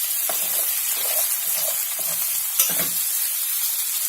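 Potatoes fry in a covered pan with a steady close sizzle, soft crackling bursts rising and falling throughout and no voices.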